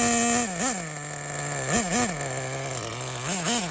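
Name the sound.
Losi XXXNT nitro RC engine idling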